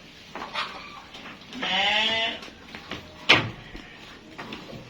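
An F1 Awassi sheep bleats once in a clear, wavering call lasting under a second, nearby, surrounded by scattered thumps and clatter from a pen.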